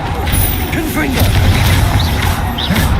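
Confringo blasting spell explosions in the Hogwarts Legacy video game, dense continuous rumbling blasts and crashes filling the whole stretch, loud and close, with game effects layered over them.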